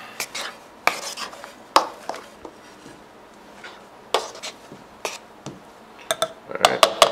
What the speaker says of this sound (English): I'm going to mash this all together so everything's kind of uniform.